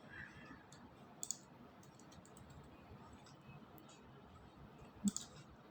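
A computer mouse gives a few faint, close clicks, a quick pair early and another pair near the end, over a quiet room hum.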